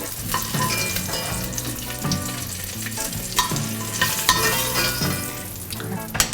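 Fat sizzles and fries loudly in a hot pan while browning before beef goes in, a dense steady crackle with occasional stirring scrapes.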